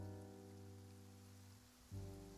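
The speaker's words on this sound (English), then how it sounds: "It's raining." Rain falling in the video game Genshin Impact, a soft steady patter of drops on surfaces beneath sustained tonal game music, fairly quiet throughout, with the music shifting near the end.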